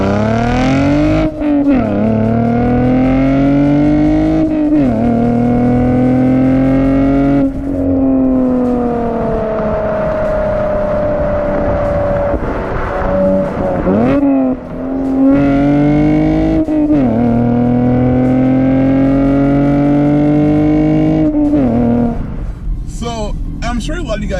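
A 2020 Chevrolet Camaro 1LT 1LE V6 accelerates hard from inside, its loud engine note climbing through several gears with brief dips at each shift.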